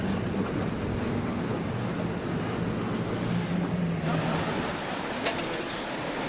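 Rushing water and surf churn steadily under a boat crashing through ocean waves off Bruny Island, Tasmania, with strong wind buffeting the microphone and a faint voice in the background.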